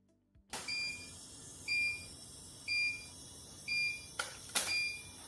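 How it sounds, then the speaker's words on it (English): A 60L SH Scientific vertical autoclave, a pressurized steam sterilizer, ends its cycle with a series of short, evenly repeated electronic beeps, then two brief hissing bursts of venting steam near the end. "Ending mode A will immediately vent the steam, sound a beep, and display end."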